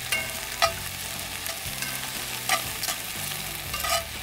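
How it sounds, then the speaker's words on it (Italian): Onions frying in hot melted butter in a cast-iron pot, with a steady sizzle and occasional scraping stirs at a moderate, close level, no talking. "Una volta che il burro è bello sciolto e bello caldo, mettiamo le cipolle."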